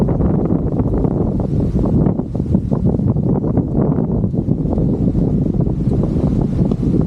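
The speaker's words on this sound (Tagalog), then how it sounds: "sobrang hangin ngayon" Strong wind roars steadily and loudly against the microphone at the Candle Monument, a dense rumbling buffet with no pauses throughout.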